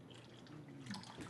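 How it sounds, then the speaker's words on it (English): Water is poured onto a tea bag, giving a faint, steady trickling splash for just over a second. "Watch what happens when I go to pour again."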